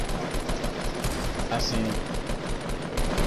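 Rapid Fortnite gunfire during a squads battle royale match, dense bursts of shots under the game's ambient noise, with a player speaking briefly over it.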